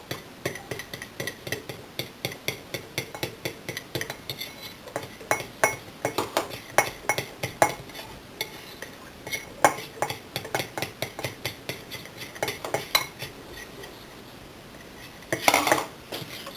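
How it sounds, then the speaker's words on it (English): Butter, sugar and chocolate mixture whisked in a bowl for rocky road brownies: a rapid, steady run of close metallic clinks and scrapes against the bowl, briefly pausing before a final louder flurry. "So you're just going to whisk it until it gets thicker."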